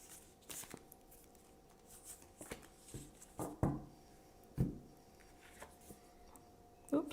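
Tarot cards shuffled by hand, with soft riffling and several sharper card snaps and taps at irregular intervals, close and moderately quiet.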